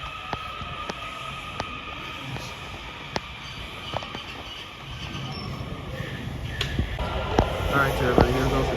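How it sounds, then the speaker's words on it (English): Metro train pulling into Alexandria station, a low rumble growing louder toward the end, with clicks and rail noise from a handheld recording nearby. "Alright, here goes the Metro."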